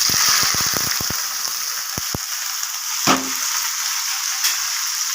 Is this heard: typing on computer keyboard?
no